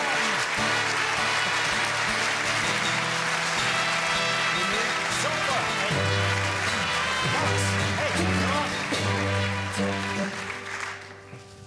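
Studio audience applause greets guests on the Swiss comedy show Giacobbo / Müller, a steady dense clapping held for the whole stretch alongside loud band music, tapering slightly at the end.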